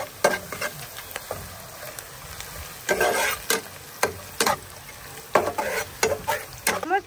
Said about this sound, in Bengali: তেজপাতা দিয়ে দিচ্ছি, এলাচ ও দারচিনি দিয়ে দিচ্ছি,